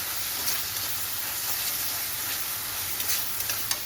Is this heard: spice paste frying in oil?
yes